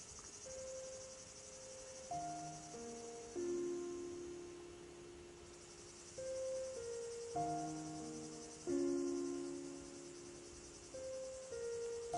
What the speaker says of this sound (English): listening to the frogs and the crickets